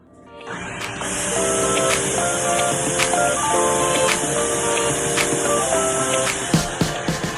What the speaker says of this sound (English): sorry for the noise from the blender you're gonna hear right now